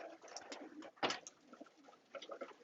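Pigeons or doves cooing nearby in a soft repeated rhythm, with a louder burst midway and light rustling around the calls, no talking.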